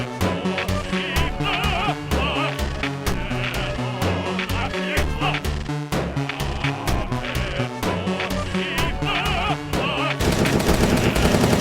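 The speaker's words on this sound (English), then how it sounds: "The dragon head pistol is a gun. Guns in Starbound are broken." Rapid gunfire from a dragon head pistol in the video game Starbound, loud and continuous over a dense, busy game soundtrack, the shots coming in quick repeated bursts that intensify toward the end.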